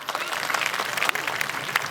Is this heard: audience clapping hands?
yes